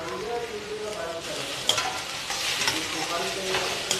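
Spring onion tossed in a pan for Gobi Manchurian, producing a steady close sizzle with scraping stir strokes and a couple of sharp utensil taps, no voices.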